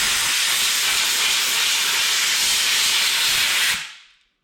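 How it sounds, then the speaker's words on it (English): Compressed air blasts through a zero-turn lawn mower's air filter in one loud, steady hiss lasting nearly four seconds before cutting off abruptly. "put a little bit of compressed air."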